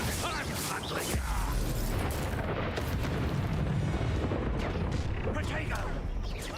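Explosive booms from the Confringo blasting spell in the Hogwarts Legacy video game, a dense, loud barrage of blasts and rumbling impacts running throughout with a voice talking over the combat.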